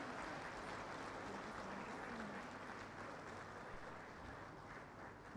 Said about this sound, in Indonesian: berikan tepuk tangan yang membanggakan